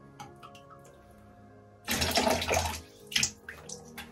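Water splashes and drips from a shaving brush being wrung out over a bowl, a short close burst of trickling about two seconds long followed by a few smaller drips.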